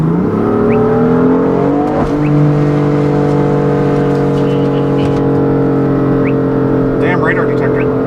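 A 2016 BMW M3 with DCT gearbox, mid-pipe and tune, its engine revving hard under acceleration, a loud sustained growl climbing in pitch with a brief shift, heard from inside the car.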